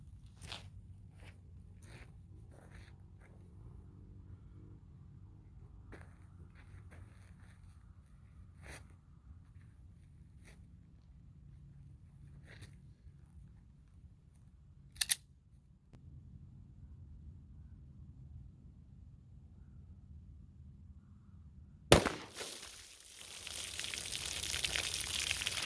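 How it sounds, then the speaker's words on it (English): A 9mm Winchester Defender 124-grain round fired from a Taurus GX4 with a 3-inch barrel into water jugs from 15 feet: one sharp, brief report over quiet outdoor background, followed later by a louder jolt and rushing noise. "now we're gonna send it through the jugs. The first one will be the Taurus GX4 3-inch barrel."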